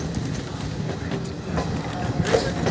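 An express train on the Sealdah to NJP route rolls away with a steady rumble and faint rhythmic clatter of wheels, growing slightly louder toward the end.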